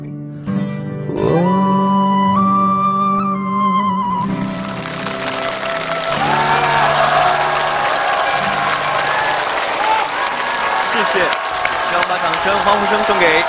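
A studio audience at a TV game show breaks into sustained applause and cheering for a singer. The clapping swells as the last sung notes fade and keeps going loud and dense to the end.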